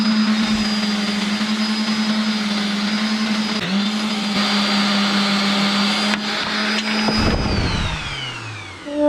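Power sander grinding a small shift linkage bushing for an Autozam AZ-1, a loud steady motor whine with high abrasive hiss, briefly dipping as the part is repositioned before spinning down at the end.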